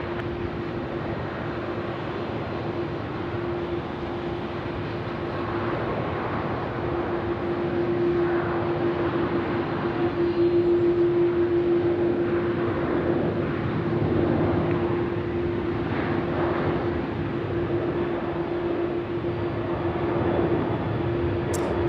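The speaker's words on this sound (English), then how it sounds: "The A330 now starting to make its way down for a full-length departure at runway 34." Airbus A330-300 airliner taxiing toward runway 34 at Melbourne for a full-length departure, heard as a steady distant jet engine hum with a faint constant whine, continuous and moderately loud throughout.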